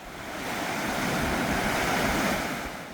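Strong sea waves break against a breakwater on the Uljin coast of Korea, a continuous loud roaring wash of surf that swells and fades slightly, with no voices.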